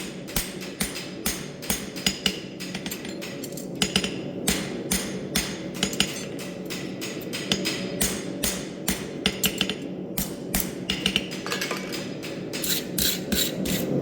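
Steady, rapid hammer blows ring out on a horseshoe on an anvil, flattening it from the foot side, close and sharp, dozens of strikes in an even rhythm with no talking.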